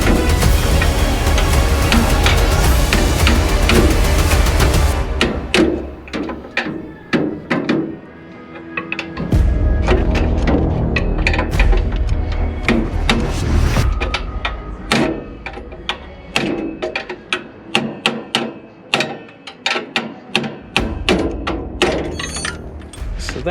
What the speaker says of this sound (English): So I'm going to take this wrench, see if I can't move that bolt over and get it to slide past.